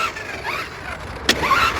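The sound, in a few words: MJX Hyper Go 1/10 VW Polo rally RC car driving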